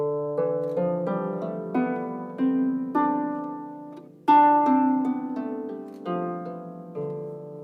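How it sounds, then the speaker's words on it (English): A D Dorian mode scale plays note by note on a sustained, reedy keyboard-like instrument, each tone struck separately in a steady stepwise run, clear and close with no talking. "So this is the D Dorian mode."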